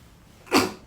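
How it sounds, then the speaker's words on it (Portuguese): One short, sharp sneeze bursts out near the end, brief and fairly close in an indoor room with an air conditioner, with no talking. "espirrando, né, no meio da live"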